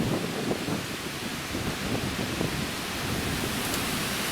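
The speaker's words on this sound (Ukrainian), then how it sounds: "Просто буря така, ну поки що дощу немає, але дерева чую напроти у лісі." A storm wind rushes through the forest trees across the water during a hot spell before any rain, a steady, loud roar with gusty swells and no voices.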